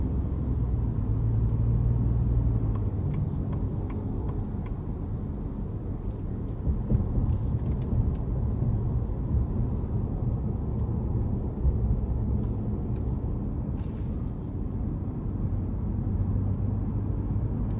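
A Ford F-150 XLT pickup with the 3.5 EcoBoost engine, in sport mode, accelerating up an interstate on-ramp: steady, loud low engine and road rumble heard from inside the cab, with a few faint clicks.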